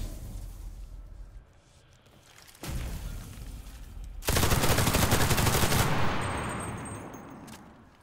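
Grenade blast and gunfire in the shooter game CRSED: F.O.A.D., with scattered shots early, a sharp burst near the middle, then a loud sustained explosion and rapid fire that slowly tail off.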